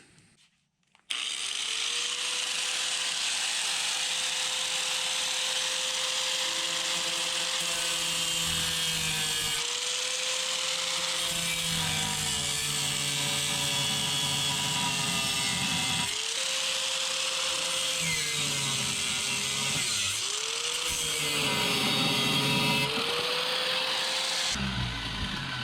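A power tool cuts through the metal of a 1940s Chevy trailer bed between spot welds, giving a steady, loud, high whining grind whose pitch dips and recovers several times under load, with brief pauses, for over twenty seconds without speech.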